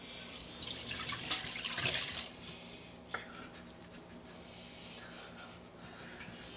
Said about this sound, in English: we are gonna take this liquid and we are gonna strain off all the little pieces and everything in here